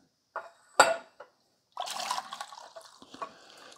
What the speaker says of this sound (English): Okay, so let's pour this coffee.